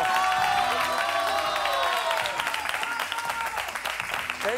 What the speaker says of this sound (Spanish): A ver ese aplauso.